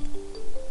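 Red piranha underwater: a brief steady tonal drone, a low sustained hum that shifts slightly in pitch, heard alone for under a second.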